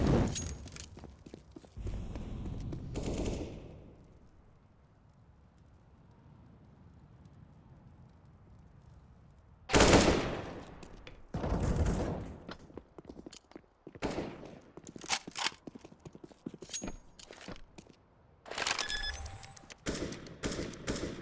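Machine gun fire in Counter-Strike on the Nuke map, several loud bursts of rapid shots separated by quieter stretches of footsteps and ambient game noise, with sharp isolated shots in between.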